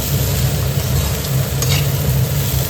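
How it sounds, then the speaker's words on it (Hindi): Pieces of arbi (taro root) frying in a pan, giving a loud, steady, close sizzle that holds without a break, with occasional faint stirring scrapes. "1 मिनट तक हम इसको पहले फ्राई कर लेते हैं"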